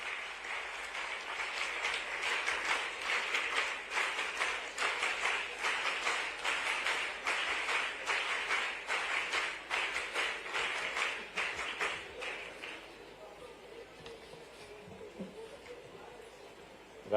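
An audience at a World AIDS Day event in Indore claps steadily for about twelve seconds, a dense even applause that then thins out and fades away.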